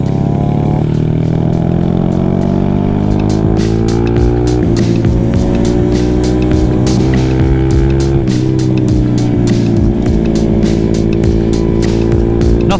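A small two-stroke motorcycle engine runs steadily and loud up close on a cold ride through New Zealand's geothermal lake district, its buzzing note rising and falling as the throttle opens and eases throughout.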